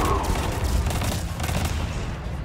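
Rapid, overlapping gunfire and booming blasts from the Destiny 2 video game, a loud, dense barrage that continues without pause, with faint voices buried in the mix.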